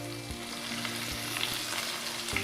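Ginger sizzles in hot oil in a pan, a steady frying hiss with a few soft stirring knocks, close and moderately loud.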